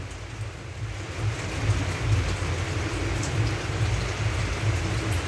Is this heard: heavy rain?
yes